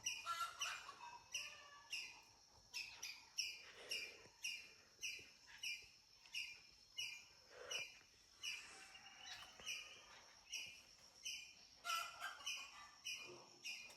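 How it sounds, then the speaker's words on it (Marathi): Small birds chirp in quick repeated bursts on a village morning in Konkan, fairly faint and distant, keeping up a regular rhythm against a quiet outdoor background. "गावाकडची जी सकाळ असते त्यामध्ये पक्ष्यांचे आवाज तुम्ही ऐकू शकता."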